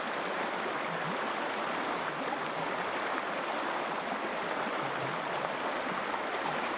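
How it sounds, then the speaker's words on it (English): A Sierra mountain creek rushes over rocks in a continuous, even wash of water noise, steady and unbroken throughout, with no voices. "listening to the sound of a creek is an amazing experience"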